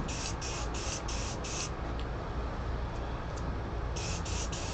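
Short hissing bursts of a spray paint can on an outdoor porch, five quick sprays in a row, a pause, then three more, over steady outdoor background noise.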